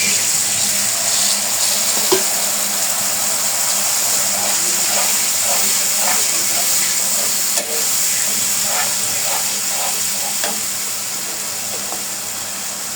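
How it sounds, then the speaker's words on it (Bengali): Tamarind water hits hot oil and fried garlic in a pan, raising a steady, loud sizzling hiss with scattered crackles and pops that carries on throughout, slowly easing toward the end. "এখন দিয়ে দিব এই যে তেঁতুল গোলানো পানি।"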